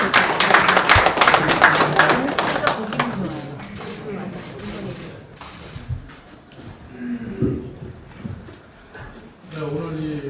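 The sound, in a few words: audience applause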